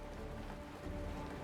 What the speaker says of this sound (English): The rain! It's raining!